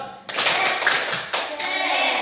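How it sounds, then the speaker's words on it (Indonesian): A group of children claps hands in the rhythmic Indonesian "tepuk semangat Jos" cheer, with sharp bursts of claps in quick sequence and brief gaps between phrases, fairly close, with faint voices in the background. "Tepuk tangan semangat Jos."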